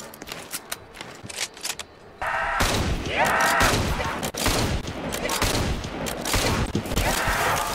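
Kar98k rifle fire in a zombies video game, a dense, loud barrage of shots and impacts that erupts suddenly after a quieter stretch and keeps going without a break to the end.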